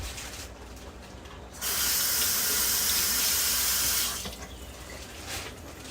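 Yellow potatoes rinsed under a running kitchen tap, a steady hissing stream that swells louder for a couple of seconds as the water hits them, then drops back to a softer flow.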